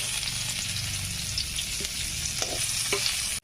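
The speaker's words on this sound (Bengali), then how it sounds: "পরে সরষের তেল দিয়েছি, আমি পাঁচফোড়ন দিয়ে দিচ্ছি, তেজপাতা দিয়ে দিচ্ছি, পেঁয়াজ দিয়ে দিচ্ছি" Onions, bay leaves and five-spice seeds fry in hot mustard oil in a pan, a steady dense sizzle running throughout with occasional stirring scrapes and clinks close by.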